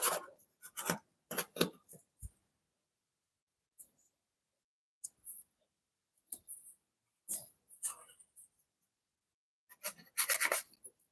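A pasta ring cutter pressed and worked into fresh dough makes quiet scraping and rasping strokes in short irregular bursts, with long silent gaps between them.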